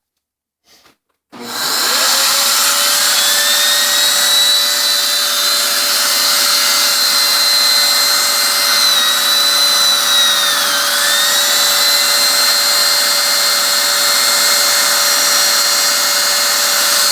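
A Bissell turbo brush, freshly cleaned, hooked up to a vacuum hose and spinning up, a loud, steady high-pitched whine with a constant hum that starts abruptly and holds, dipping briefly once.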